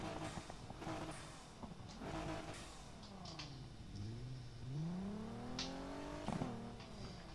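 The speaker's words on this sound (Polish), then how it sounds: "Zobaczymy, jak brzmi start silnika." A tuned rear-wheel-drive car in the video game Need for Speed Underground 2 starts up and revs, its engine pitch sweeping up and down in quick blips over a faint, low game background; no talking.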